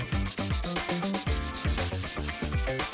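Sandpaper rubs back and forth across the sharp metal edge of a charcoal grill, a close, rhythmic scraping of about a dozen quick strokes with no talking.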